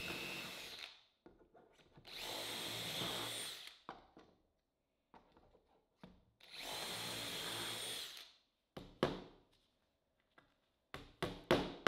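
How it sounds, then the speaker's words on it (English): Power drill boring dowel holes through a doweling jig in wood, loud sustained bursts of drilling, two long runs separated by scattered clicks and taps of handling the jig and workpiece. "when it is aligned, you can drill the other holes"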